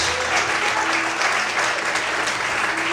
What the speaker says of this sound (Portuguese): Mais aplausos para Deus.